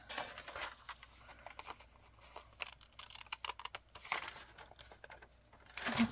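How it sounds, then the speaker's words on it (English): A small piece of material is torn off by hand for a needlework project, heard as scattered close rustles and crinkles with a louder ripping burst near the end, with no one speaking. "A little hunk here I'm going to tear off."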